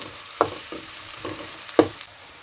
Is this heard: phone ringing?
no